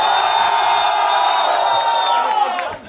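A live audience at a Brazilian MC rap battle duel in Santa Catarina erupts in loud, sustained cheering and whooping, a dense crowd roar that holds steady before tapering off at the end.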